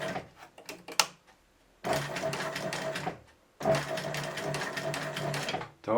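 A sewing machine stitches a rope eye in two loud, steady whirring runs of rapid needle strokes, separated by short pauses and preceded by a few clicks.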